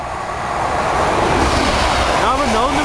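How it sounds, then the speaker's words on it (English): A train rushes past Needham Lake, a loud broad roar building and holding close by, with a voice rising over it near the end. "Another train about to rocket past Needham Lake."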